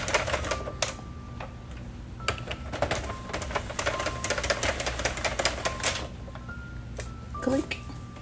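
A Sentro knitting machine clicks and clatters in a rapid, irregular stream of small plastic taps as it is cranked, close up, with a voice speaking over it.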